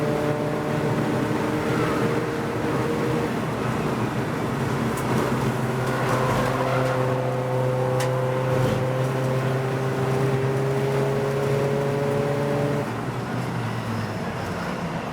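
Volkswagen Golf TDI race cars lap the Snetterton circuit in a 750 Motor Club Roadsports race, a steady loud diesel engine drone with rising and falling pitch as cars pass, continuous throughout with no talk.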